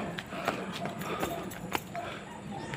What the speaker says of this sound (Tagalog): Pero ang galing ng kabayo,